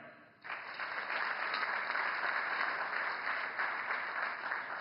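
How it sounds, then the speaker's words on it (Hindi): Steady applause fills a hall at the inauguration ceremony of the Indian Newspaper Society towers in Mumbai, even continuous clapping from a large audience after a brief quiet start, with a faint steady tone running underneath. "बहुत बहुत तालियां।"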